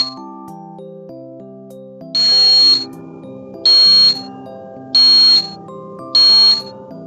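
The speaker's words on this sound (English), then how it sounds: "This buzzer should sound now." A homemade battery-powered electronic buzzer doorbell sounds four loud, shrill beeps in an even rhythm, each about half a second long, over a soft background melody.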